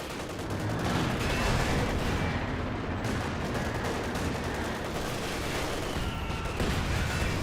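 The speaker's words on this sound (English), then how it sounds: "Good mortar hit there." Mortar impact and gunfire in the game Company of Heroes 2, a dense continuous battle din of explosions and crackling shots that stays loud throughout.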